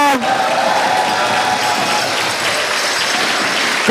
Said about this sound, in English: Let's give a big round of applause to AMC and all the volunteers